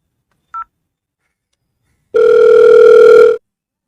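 Telephone dial tone while a call is being placed: one brief beep, then a steady, loud sustained tone lasting over a second, with no voices.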